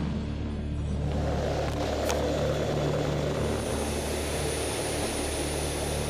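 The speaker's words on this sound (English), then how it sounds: "The Super Hornet is the newest and most advanced addition to the F-18 family." Steady, loud jet aircraft engine roar from an F-18 Super Hornet on an aircraft carrier at sea, a continuous broadband rumble with a constant high whine and no voices.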